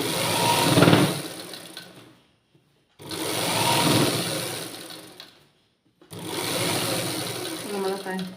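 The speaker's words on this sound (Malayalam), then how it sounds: "നമ്മളെ പെറ്റിക്കോട്ടിൻ്റെ തയ്യൽ കഴിഞ്ഞു" A sewing machine stitching a petticoat, running in three close, loud bursts of steady mechanical whirring separated by short pauses.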